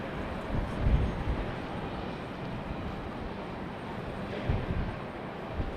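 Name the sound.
Southwest airliner on final approach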